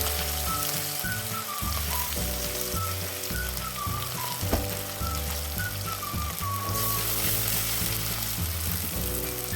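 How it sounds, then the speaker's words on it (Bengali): Chopped onions frying in a pan for a homestyle desi chicken curry give a steady, continuous sizzle that sits beneath prominent background music. "এখন আমরা পেঁয়াজ কুচি ফ্রাই করে নেব।"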